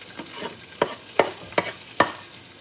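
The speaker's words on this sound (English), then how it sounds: "then we're gonna add in our peppers, beautiful peppers, to the pan" Peppers fry in hot oil in a pan, giving a low sizzle punctuated by four or five sharp scraping stirs at roughly regular intervals, close by.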